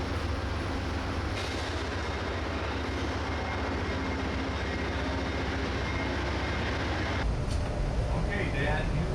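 A huge double-decker transcontinental train runs from Chicago toward Denver, giving a steady loud rumble and rattle of cars on the rails that lasts throughout, with a brief shift in tone near the end.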